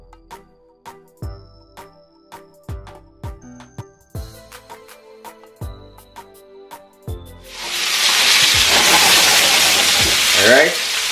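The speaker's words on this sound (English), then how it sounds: "I'm just going to allow this to nicely sear off on each side to get that nice char and smoke in it." Food searing in a hot cast iron pan for char and smoke: a series of sharp clinks and taps against the metal, then a loud, sustained hiss and sizzle swelling up and filling the last few seconds.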